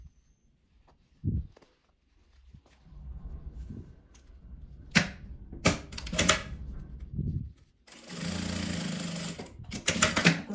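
A sewing machine stitches a French seam in short bursts with fabric handling between runs, ending in a longer, louder stretch of close mechanical whirring.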